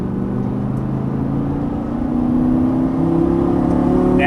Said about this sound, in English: Squeeze the throttle.